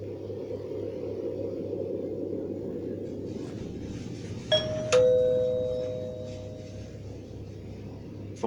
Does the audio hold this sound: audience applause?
no